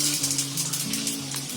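Cumin seeds and a bay leaf sizzle in hot oil, a steady bright hiss close by with a faint low hum underneath.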